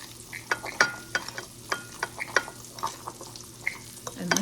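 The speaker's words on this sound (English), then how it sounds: "we are going to just stir all this together" A breakfast mixture with cinnamon is stirred in a bowl, making a series of close, irregular scraping clicks and soft wet knocks with brief pauses between strokes.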